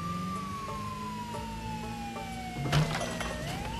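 A police siren in the video game Goat Simulator 3 wails steadily with a slowly falling tone, joined near the end by a short burst of crashing noise.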